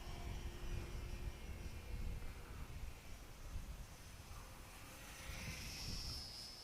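A radio-controlled 400mm model fighter plane, such as a Mustang, P40 or Spitfire, drones at half throttle outdoors, its faint, steady engine whine rising and falling a little as the wind buffets it.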